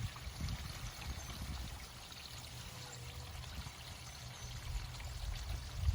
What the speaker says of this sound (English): Our final flush on the black, what you want to do is make sure that it's clear.